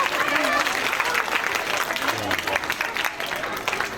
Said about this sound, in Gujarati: આપણે એમને જોરદાર તાળીઓથી વધાવીએ.